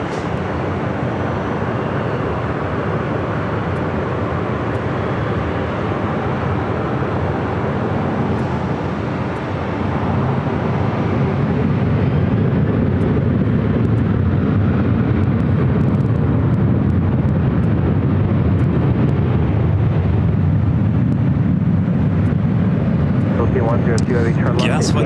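An airliner taking off from runway 24 left at Los Angeles International Airport, a broad engine roar that swells louder and heavier partway through and holds, with faint voices underneath.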